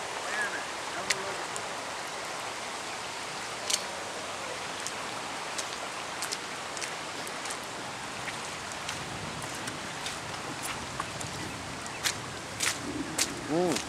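Heavy rain falls around a flowing stream, a steady dense hiss of water with scattered sharp drips and splashes, fairly faint and continuous, with occasional footsteps nearby.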